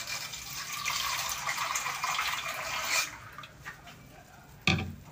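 Water poured into a pot of chicken adobo with liver and gizzards, a steady broadband splashing stream for about three seconds, then trickles and a final sharp splash.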